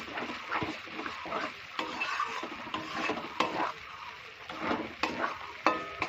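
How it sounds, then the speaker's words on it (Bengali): Mustard paste for a pabda fish curry is stirred and sautéed in a pan, with a steady gentle sizzle and repeated scraping strokes of the spoon close up, alone. "হালকা এটাকে কষিয়ে নেব।"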